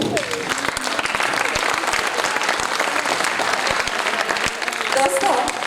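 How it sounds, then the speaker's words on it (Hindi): A seminar audience claps in a dense, sustained burst that holds steady throughout, with a speaker's voice coming through faintly near the end. "तो ताली कैसे बजानी चाहिए?"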